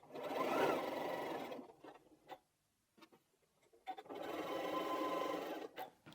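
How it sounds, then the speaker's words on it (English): A Janome Memory Craft 9480 QC sewing machine stitches pieced quilt blocks in two steady whirring runs, separated by a pause with a few clicks and taps, close and clear, with no talking. "put right onto left, and take them to the sewing machine"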